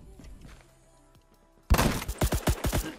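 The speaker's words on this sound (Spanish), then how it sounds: "¿quién me está disparando? Me está disparando alguien más" Another player in Phantom Forces opens fire in a sudden burst of rapid gunshots, loud and close, around eight sharp cracks following a quiet stretch.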